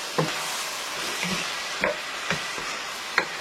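A white garlic sauce (mtewem) simmers on lowered heat, giving a soft continuous bubbling sizzle punctuated by a few sharp spoon clinks and stirring taps, close and quiet, with no talking.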